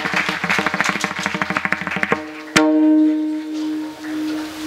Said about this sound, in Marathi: एकदा पुन्हा टाळ्या वाजवा बाबाचं.